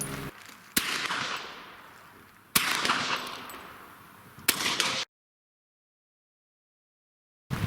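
A PC carbine fires at 50 yards: three loud, sharp shots about two seconds apart, each with a long decaying echo, followed by silence and the start of another crack at the very end.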